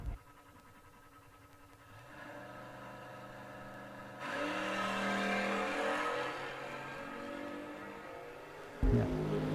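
A 1981 Chevrolet Camaro door car launches down a drag strip, its engine roaring louder and building into a sustained, far-reaching race run with broadband rush, then a sharp burst near the end.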